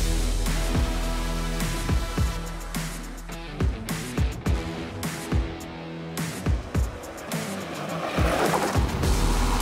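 A Jeep Wrangler Rubicon JL drives on an off-road test circuit, its engine droning loudly with bumps, knocks and tire noise breaking in irregularly as it crosses rough ground.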